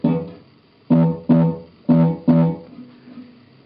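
Plucked electric guitar notes through a Boss DD-3 delay pedal set to minimum feedback and full effect level, each note followed by a single equally loud repeat, giving a clear doubled rhythm of strikes before a faint tail.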